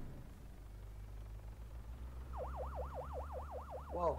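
A police-style siren in the video game Arma 3 wails in a quick, regular up-and-down sweep, starting midway and fairly quiet over a low engine hum, ending with a brief burst.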